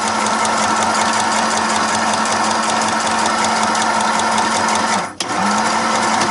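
A sewing machine stitches fabric in a loud, close, steady whir with a rapid needle pulse, cutting out briefly near the end before starting up again.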